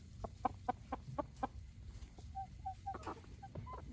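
A chicken gives a quick run of sharp clucks, then softer scattered clucks and chirps follow over quiet outdoor background.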